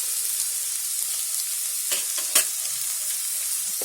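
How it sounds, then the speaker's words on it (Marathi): Onions for Hyderabadi-style chicken biryani fry in a pan, giving a steady, loud, close sizzle with a few soft stirring scrapes partway through. "कांदा पण आपला चांगला खरपूस भाजायला आलाय"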